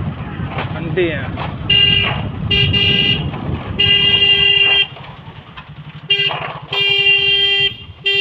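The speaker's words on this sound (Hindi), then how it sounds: "हॉर्न मारना, हॉर्न" Loud car horn honks in several bursts, long and short, over engine rumble and traffic noise on the Nangloi–Najafgarh Road, with people talking nearby.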